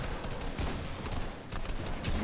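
Rapid Fortnite gunfire crackles in bursts amid busy game noise, fairly quiet and continuous, with short volleys repeating throughout.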